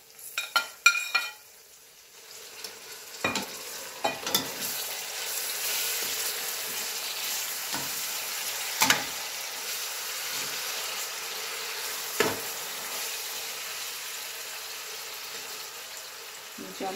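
Onions frying in a pot for biryani: a steady sizzling hiss with intermittent spoon scrapes and stirring knocks, several sharp clatters at the start, and someone speaking briefly.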